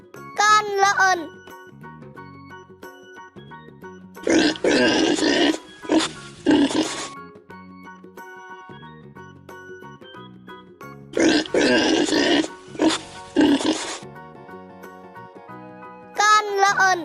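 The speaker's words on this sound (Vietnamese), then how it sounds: "Con lợn." A pig grunts and snorts in two loud, rough bursts of several grunts each, set against light background music with chimes and brief child-like spoken calls at the start and end.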